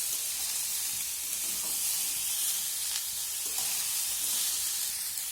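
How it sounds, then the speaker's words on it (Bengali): Ivy gourd and onions sizzle steadily in a pan, a continuous bright frying hiss broken by a few soft scrapes and knocks of stirring. "সব কিছু একটু নাড়াচাড়া করে নেব।"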